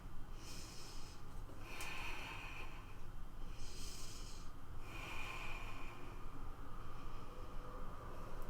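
Three slow rounds of deep, audible yoga breathing during a standing split pose, each inhale and exhale a soft broadband rush of air close to the microphone, evenly paced over a steady low background hum with no talking.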